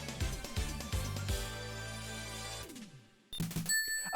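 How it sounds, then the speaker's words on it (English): Cartoonish game sound effect from Sonic Mania Plus Encore Mode when a character switch fails: a bouncy run of plucked, descending tones over a bright musical backdrop, followed by a brief pause and then chiming notes. "That is the sound of trying to switch your character,"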